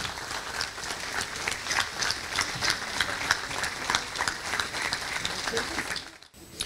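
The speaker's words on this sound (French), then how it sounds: "Vous pouvez les applaudir." Steady applause from a crowd, dense clapping that continues evenly for several seconds before briefly dropping off near the end.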